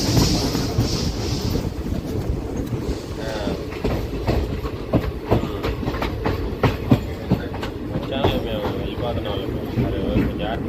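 A passenger train on the Guntur–Macherla line in India runs steadily over the rails near Nadikudi Junction, with a continuous loud rumble and rhythmic clickety-clack wheel beats throughout, plus some wind buffeting.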